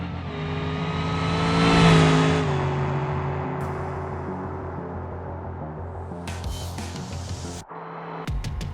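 Bishu Hopper drag car in BeamNG accelerating hard down a drag strip, engine revving loud and rising to a peak early, then holding a steady roar with gear changes and a brief cut near the end.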